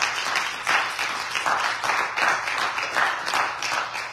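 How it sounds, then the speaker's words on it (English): A church congregation claps together in praise, a dense, steady wash of hand claps that swells and ebbs in loose pulses at moderate loudness, with no voices standing out. "Give the Lord a hand clap of praise."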